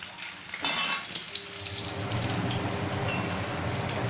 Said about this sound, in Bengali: কড়াইতে তেল গরম করে তাতে কিন্তু আলুগুলো এরকম ডুমো ডুমো করে কেটে মাংসের মতো দিয়ে ভালো করে লাল লাল করে ভেজে নিতে হবে